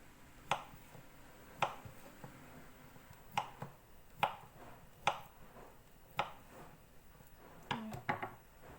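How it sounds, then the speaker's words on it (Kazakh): A knife chopping boiled carrots and potatoes into cubes on a board, about nine sharp, quiet taps at an uneven, unhurried pace with nothing else heard. "Осылай кубик қылып турап алыңыздар"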